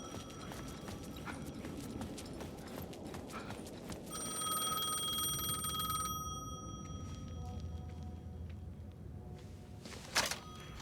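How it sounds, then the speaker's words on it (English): A payphone in the video game Alan Wake 2 rings with a steady electronic trill for a couple of seconds, then stops, set against a constant ambient hum with a sharp clunk near the end. "The payphone was ringing."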